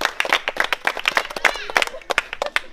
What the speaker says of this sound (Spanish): Fuerte aplauso para el equipo Cristian.